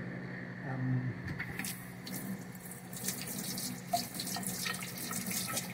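Portobello mushrooms washed under a running kitchen tap, a steady close rush of water into a sink that continues evenly throughout.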